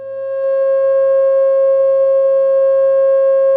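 A pure sine tone at 540 hertz holds steady and loud for several seconds, fading in at the start with no other sounds.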